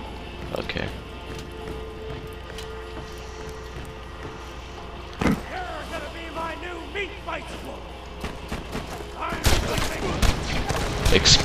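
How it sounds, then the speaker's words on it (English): Exploding-bullet gunfire in the video game Borderlands 2, heard as scattered sharp bursts and pops over busy game noise, with a heavier cluster of shots near the end. "exploding bullets."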